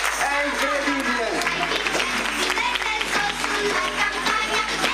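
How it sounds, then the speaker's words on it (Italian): An audience claps for the showgirls at a variety talent show held in Carpegna in 2014, a dense, steady wash of applause and crowd noise running for the whole stretch beneath a loud voice talking over it. "un applauso alle veline, ragazzi, è incredibile"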